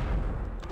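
A weapon shot in the video game Cryptic Passage lands as a short, heavy boom with a rumbling low end, over in under a second.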